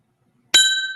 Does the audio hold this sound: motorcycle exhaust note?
no